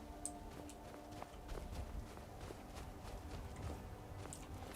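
Horse hooves in the video game Skyrim, a steady, faint clip-clop of footfalls at an even walking rhythm over a low ambient hum.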